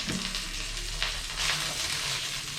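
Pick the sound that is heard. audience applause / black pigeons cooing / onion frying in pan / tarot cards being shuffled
onion frying in pan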